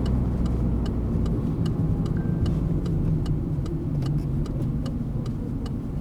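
A car being driven and braked gently, a steady close engine hum and road rumble inside the cabin, with faint rhythmic ticking throughout and no sharp stop.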